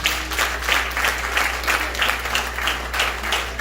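A church congregation claps and applauds to praise the Lord during a sermon, a steady dense patter of many hands lasting the whole stretch, with a low constant hum beneath.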